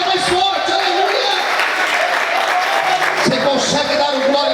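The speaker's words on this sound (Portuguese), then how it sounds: "Se é para Deus, aplauda mais forte, aleluia" A church congregation applauds loudly during a Portuguese-language evening worship service, steady clapping mixed with crowd voices and cheering throughout.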